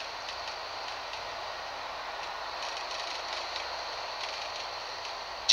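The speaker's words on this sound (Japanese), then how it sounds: "鉄のきしむ音が響く。" The F60, a giant mining machine riding on rails, gives off a steady, fairly faint mechanical drone of creaking steel with soft intermittent ticking, and a brief sharp squeal comes right at the end.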